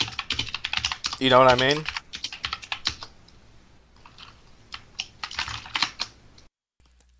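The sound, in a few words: computer keyboard typing in the background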